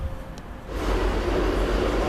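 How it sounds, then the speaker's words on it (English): Class 158 diesel multiple unit passenger train arriving, a broad rumbling roar that swells after a quiet start and holds steady and loud near the platform. "Here's our train, it's at class 158. It's 158 902."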